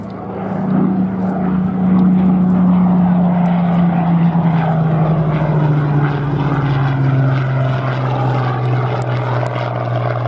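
A Hawker Hurricane Mark IIc fighter of the Battle of Britain Memorial Flight drones past at Duxford, its piston engine and propeller giving a loud, steady tone whose pitch slowly sinks as it goes by.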